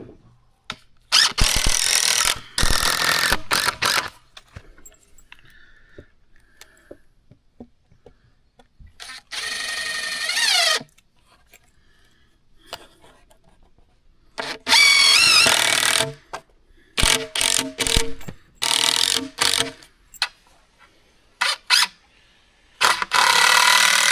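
A drill gun drives screws while a house is prepped for the next project. Loud bursts of whirring, each lasting from one to a few seconds, are separated by quiet gaps with faint handling noises.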